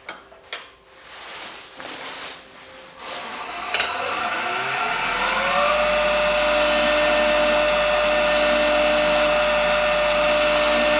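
Woodturning tool cutting an ash maple bowl on a lathe: after a few knocks and rustles, a motor spins up with rising whine and then holds a loud, steady high-pitched hum.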